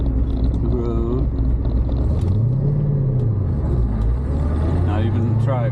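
Corvette engine pulling hard in second gear on the road, a deep loud rumble that rises and dips in pitch while people talk over it.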